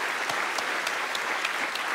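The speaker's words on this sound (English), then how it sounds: "it's worthy of a round of applause" A studio audience at a motoring show's racetrack lap-time reveal breaks into steady, dense applause that holds at an even level throughout, with no talk over it.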